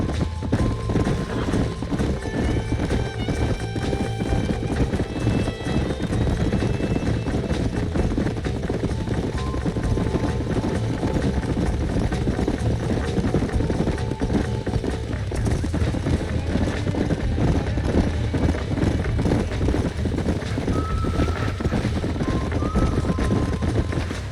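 A horse galloping in Red Dead Redemption, with rapid rhythmic hoofbeats pounding steadily and loudly throughout, plus a rushing wind-like roar and occasional voices speaking over the ride.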